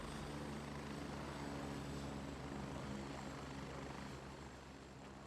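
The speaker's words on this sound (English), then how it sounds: "That is not our helicopter." Helicopter rotor thrum in the video game Gray Zone Warfare, a steady loud low beating drone with a faint high engine whine that holds throughout and eases slightly near the end, with no talk.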